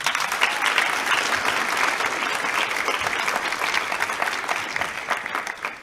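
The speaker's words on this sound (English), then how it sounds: "A big round of applause." A graduation ceremony audience applauds, many hands clapping in a full, sustained burst that holds steady and then begins to thin toward the end.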